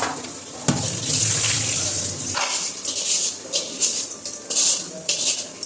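Rice is being washed with water in a home kitchen: sloshing, swishing water and tap-like running sounds in uneven bursts, fairly close, with a faint dog bark in the background.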